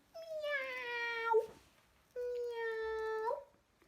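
Two drawn-out cat meows, the first longer and rising slightly at the end, the second after a short pause, clear and close.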